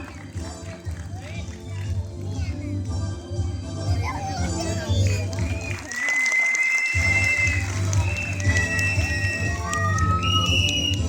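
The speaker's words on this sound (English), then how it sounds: "huge applause for the beautiful and a talented dancer, everyone" An audience at a children's annual function in an auditorium applauds a dancer, with clapping mixed under stage music and an announcer's voice.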